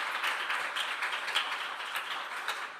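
An audience at a Seoul youth speech contest claps after a political speech, a steady, dense wash of applause that holds evenly throughout.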